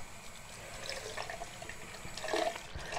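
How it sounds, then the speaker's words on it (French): Running water splashes steadily while facial cleanser is rinsed off, swelling slightly near the end, close and alone with no talking. "Je vais rincer."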